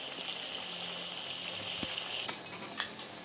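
Onion pakoras (pyazi) frying in hot oil, a steady close hiss of bubbling oil with a brief crackle or two, alone and without voices.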